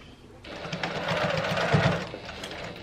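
A Janome HD9 sewing machine starts up and stitches a steady run through fabric, a fast even mechanical whir close by that holds for about two seconds before easing off, with no talk.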